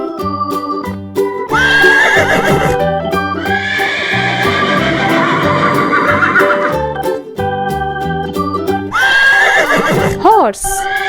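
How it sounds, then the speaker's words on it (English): Horse neighs and whinnies in bursts over steady background music, with a high descending whinny near the end; the calls are loud and close, set among farm-animal sounds. "Horse."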